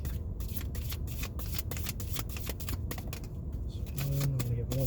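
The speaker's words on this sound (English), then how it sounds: "Let me get a couple more cards for you here." Tarot cards being shuffled for a reading, a close, continuous rapid riffling under a steady background noise, with a voice starting to speak near the end.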